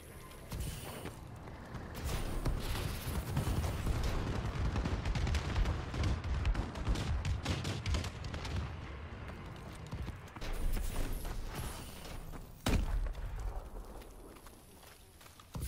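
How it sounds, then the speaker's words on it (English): Explosions from a friendly bombing run in the Call of Duty Advanced Warfare multiplayer game rumble and crack in a dense, sustained barrage, with a sharp blast near the end. "Friendly bombing run clearing the way"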